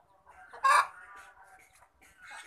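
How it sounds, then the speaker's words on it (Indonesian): Chickens in a coop clucking and squawking, with one loud, brief crowing burst standing out near the start and softer fowl calls around it, close by and with no talking. "Itu ayam di kandang loh, udah di kandang."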